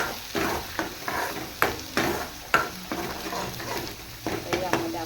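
Oil frying in a pan while being stirred for egg curry, with a steady sizzle broken by regular scraping strokes and spoon clinks against the pan, close and fairly loud, with no clear talking.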